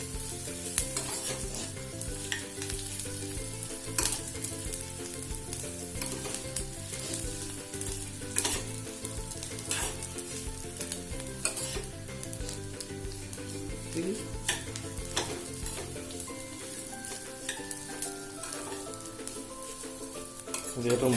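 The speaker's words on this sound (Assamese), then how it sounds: "এয়া দেখিছে চেৱৈখিনি ঘিউত দি দিলোঁ, আৰু যেতিয়ালৈকে আপোনাৰ এইটো ব্ৰাউন কালাৰ হৈ যায়, তেতিয়ালৈকে আমি ইয়াত চেৱৈখিনি ভালদৰে সিজাব লাগিব" Vermicelli fries in ghee in a home kitchen while being stirred, a steady close sizzle broken by repeated scraping and clinking of the spoon against the pan, with a faint tonal hum beneath.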